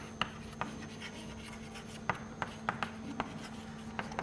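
Chalk or pen tapping and scratching out index notation on a board during a lecture, a series of small sharp clicks over a quiet room hum.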